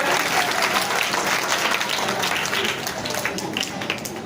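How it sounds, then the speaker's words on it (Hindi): Dense, sustained audience applause at a community educational-supplies distribution event in Jalgaon; many hands clap steadily at close range for the whole stretch, loud and unbroken. "आपने हमारे लिए ताली बजा दी"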